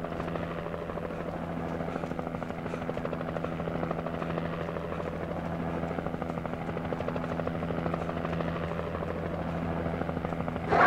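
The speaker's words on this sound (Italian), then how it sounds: "Fai le schivate con un elicottero." A helicopter in the video game Alan Wake drones continuously with a steady rotor buzz and hum at an even level throughout, with no talk.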